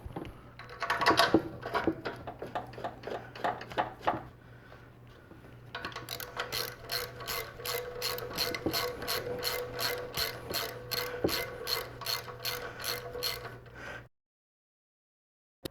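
Ratchet turning in an alternator bolt on a Toyota Camry 2.2-litre engine, a steady run of close, even clicks for about eight seconds after a quieter stretch of handling, with no talk.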